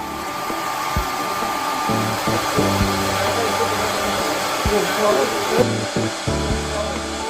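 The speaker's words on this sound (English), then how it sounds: "Four hair dryers were then placed in order to achieve the desired temperature in the chamber. They were then turned on." Four hair dryers run together to heat a thermal test chamber, a loud steady whirring blow with intermittent low thumps and clicks, no talking.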